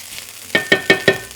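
Leftover fried rice is scraped across the bottom of a hot pan in four quick, evenly spaced strokes, each a crisp rasp over a soft, steady sizzle.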